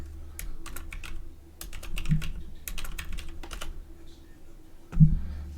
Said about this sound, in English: My typing is not any better either.